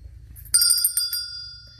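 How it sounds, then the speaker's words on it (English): A small brass bell is struck once, giving a bright, close ring that shimmers and slowly fades. "But it's a cool brass little bell"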